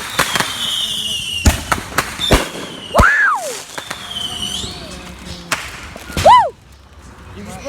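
Large consumer fireworks cake called The Beast firing a series of sharp cracking bursts and whistling shots, several loud reports spaced over a few seconds, with people cheering and whooping close by.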